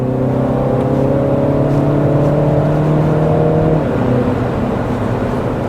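A Mini Cooper S accelerates hard with a loud, steady engine roar whose tone climbs smoothly through the revs, then shifts once and keeps pulling, close and constant throughout.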